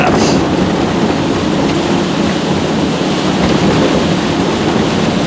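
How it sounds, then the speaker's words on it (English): Heavy rain drums on a vehicle on the highway while driving home, a loud, dense roar with wind buffeting, steady throughout, with no voices. "This is more rain than we saw the whole time we were down there by about tenfold."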